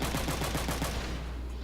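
Machine-gun fire from the video game Front Mission 3 is a brief, dense rattle of rapid shots lasting under two seconds, loud and continuous, with no talk.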